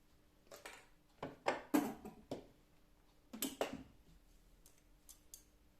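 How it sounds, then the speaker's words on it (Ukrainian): Scissors snip and trim craft material at close range, a series of crisp, separate cuts arriving in two short bursts with quiet pauses between, and no voices. "Виправляю це все ножицями, все підрівнюю."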